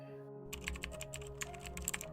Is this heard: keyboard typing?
yes